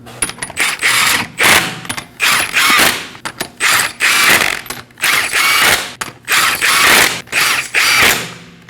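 A hand ratchet snugs up lug nuts on a Nissan Armada wheel, giving close, loud bursts of rapid clicking in a repeated on-off rhythm with short pauses between strokes.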